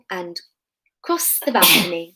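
A child's sneeze bursts out loudly right after a short spoken phrase, a single sharp nasal blast about a second long, with speech just before it in a quiet indoor setting.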